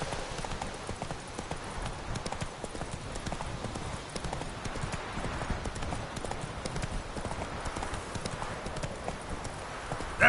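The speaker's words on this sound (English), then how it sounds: "Whoa there, Roach" A horse's hooves clip-clop at a steady walking rhythm on the ground in the video game The Witcher 3, continuous and close for the whole stretch under soft ambient noise.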